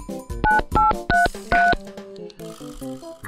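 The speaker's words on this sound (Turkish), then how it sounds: "Ben en iyisi bir Oddbods'u arayayım" Toy telephone keypad being dialed, a quick run of loud electronic beep tones in a short irregular rhythm, each press a bright synthetic note, close and clear with no talking.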